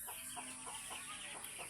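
Ducks on a small farm of about forty birds, including young Belgian ducklings, give a quick run of soft, rhythmic quacks and clucks close by, faint but clear, with no talking.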